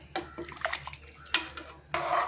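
Thick bubbling and glugging from a pot of beef stew on the boil, in short uneven bursts close by.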